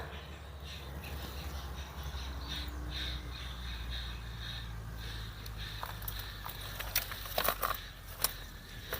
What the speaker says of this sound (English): Oh, we're disturbing some birds.